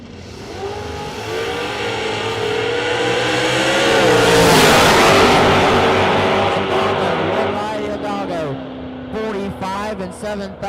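Drag racing cars, one a GTO, launch down the strip, a loud engine roar swelling over several seconds as they pass and then fading, with an announcer talking over it.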